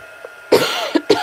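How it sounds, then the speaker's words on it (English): A person coughs sharply two or three times in close succession near the microphone during a card-making session, with a brief throat sound just before. "Apologize for my cough."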